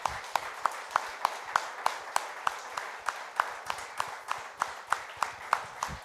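A church congregation claps in a steady, even rhythm, sharp claps repeating about twice a second, somewhat distant and moderately quiet.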